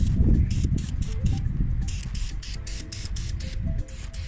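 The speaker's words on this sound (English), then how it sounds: "now I'm gonna shake and I'm gonna spray away." An aerosol spray paint can hisses in short, broken bursts close by while coating a console table, over a rumbling background.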